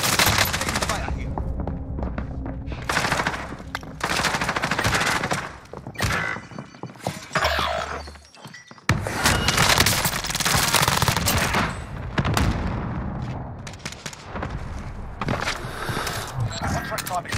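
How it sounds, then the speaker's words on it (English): Rapid automatic gunfire in the video game Call of Duty: Modern Warfare, dense loud bursts and sustained rattling volleys with brief lulls, mixed with voices calling out over the combat. "Taking fire here."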